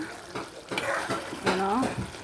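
Food cooks down in a pan with a soft sizzle and the scrape of stirring, close by, while a voice briefly speaks.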